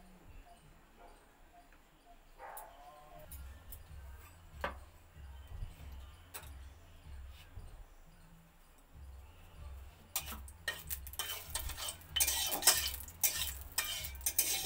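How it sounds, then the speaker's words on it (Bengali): A metal spoon scrapes and stirs in a wok as boiled dal is tempered in hot oil for a sour mango dal, with intermittent clinks, a low hum, and a louder sizzle near the end. "কড়াই বসিয়ে দিয়েছি, ডালটা ছকে নেব"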